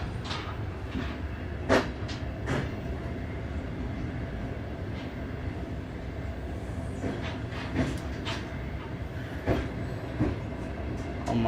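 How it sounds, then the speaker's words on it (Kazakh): Inside a moving passenger train carriage travelling from Almaty to Turkistan, a steady rumbling roar fills the space, broken by occasional sharp clacks and knocks from the wheels and fittings. "Мен қазір вагон ішіндемін."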